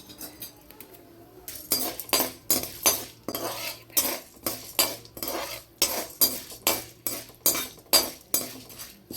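A spoon scrapes and clinks rhythmically against a pan as fenugreek seeds, urad dal and chana dal roast in coconut oil. The strokes are steady and close, with no talk.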